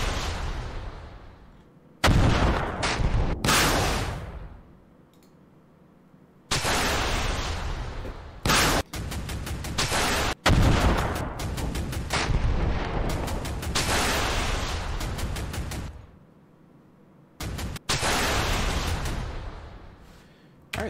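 Heavy bursts of gunfire and booming blasts from units in the game Command: Modern Operations, coming in loud clusters separated by brief near-silent gaps.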